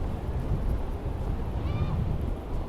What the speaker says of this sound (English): It's absolutely blowing a gale.